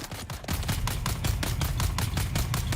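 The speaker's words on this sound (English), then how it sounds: "Oh, the reverb on the gunfire." Rapid automatic gunfire in the video game Dune: Awakening, a steady burst of repeated shots with a strong reverberant tail, loud and continuous throughout.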